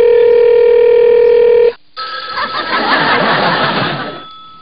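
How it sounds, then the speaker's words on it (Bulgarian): A telephone rings in a Bulgarian comedy sketch. The ring is a loud, steady electronic tone that holds for almost two seconds, then cuts off into a burst of noisy rustle. "Кой звъни по това време?"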